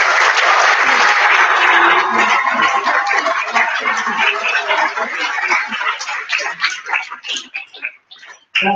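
An audience at the Jaguar MiM World Final 2016 gives loud, dense applause for second-place Congo Road. The clapping thins into scattered claps and fades near the end.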